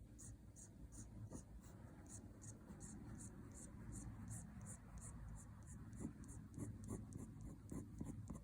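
A quill pen scratches across plain, low-grade paper in steady strokes, close and soft, with a slight ink drip, under faint whispery breath and a repeating high ticking in the background.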